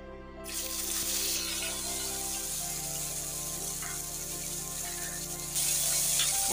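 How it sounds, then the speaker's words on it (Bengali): Starfruit slices hitting hot oil in a wok set off a loud, steady, hissing sizzle that begins abruptly and holds at an even level, close up and alone, with a faint low hum underneath. "এরপর কড়াইয়ে এই কামরাঙ্গাগুলি দিয়ে দেব।"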